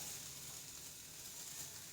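Curry leaves and grated coconut fry in a pan for a tender coconut masala curry, making a soft, even sizzle that holds steady and stays faint throughout.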